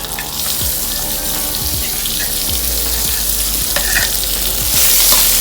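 Field rat meat stir-roasting in a hot pan gives a loud, steady sizzle, with repeated scrapes and knocks of stirring throughout and no voices.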